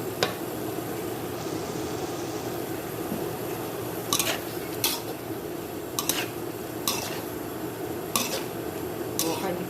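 Macaroni and carrots stirred in a pan on the stove, soft continuous scraping and sizzling with a few sharp utensil clicks against the pan, fairly quiet with no speech over it.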